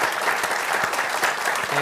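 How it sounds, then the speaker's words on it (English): Dense, steady applause from an audience at a panel discussion on voter discontent and wave elections, filling the whole moment at an even, loud level without letup. "Can we give these fellows a round of applause?"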